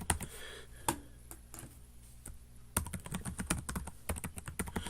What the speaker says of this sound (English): I'm just going to go ahead and type in a password here